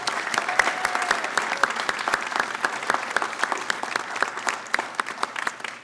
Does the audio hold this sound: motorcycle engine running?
no